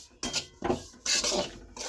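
Semolina roasting in ghee for ginger pak, stirred with a spoon against the pan in short bursts of scraping, rasping strokes, close and fairly quiet, with no voices.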